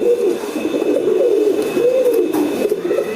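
A racing pigeon coos close by in a repeating throaty warble, loud and rolling across a few seconds, with faint background hum.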